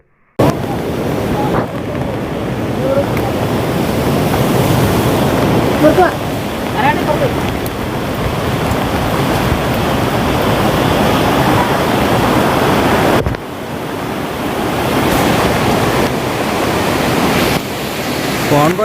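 Rushing floodwaters of the Chalakudy river in Kerala during heavy monsoon flooding, a loud, steady broadband roar of surging water that holds nearly unbroken for the whole stretch, dipping briefly once before swelling again.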